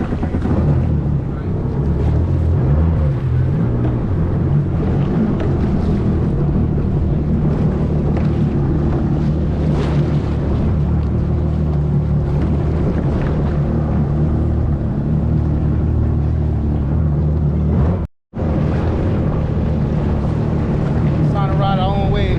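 A jet ski engine fires up and runs steadily on open water in the Bahamas, a loud continuous motor drone with wind buffeting the microphone, one brief cutout near the end.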